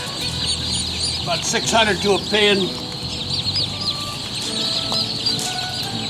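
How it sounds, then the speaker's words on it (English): A crowded pen of baby tom turkey poults on a free-range farm cheeps and peeps constantly nearby while someone talks over the chatter. "These are all Tom poults. That's what they call baby turkeys, is a poult."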